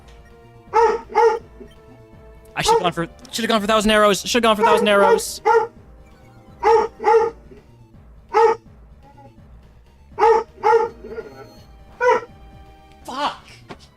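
Holmes the dog barks indoors in short repeated bursts, mostly single barks with a longer run of yaps early on, mixed with someone talking.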